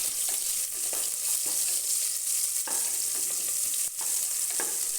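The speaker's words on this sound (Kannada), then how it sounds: "ಕಟ್ ಮಾಡಿರುವ ನೀರುಳ್ಳಿನ ಸೇರಿಸ್ಕೊಂಡು ಎರಡು ನಿಮಿಷಗಳ ಕಾಲ ಫ್ರೈ ಮಾಡ್ಕೋಬೇಕಾಗುತ್ತೆ" Steady oil sizzle from chopped onions frying in a pan, with a few soft scraping stirs breaking the hiss.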